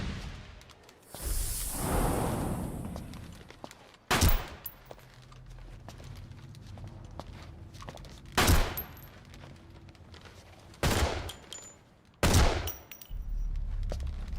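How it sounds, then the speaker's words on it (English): Video game gunfire with enemies shooting at bodies: bursts of automatic fire and sharp shot cracks at irregular intervals, loud and close, with a whooshing sweep early on and low rumbling in between, no talking. "They're shooting all the dead bodies."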